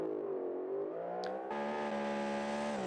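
A race car engine in a GT World Challenge sim race at an American Grand Prix round holds a steady high whine, climbing in pitch, with a gear change partway through, heard alone.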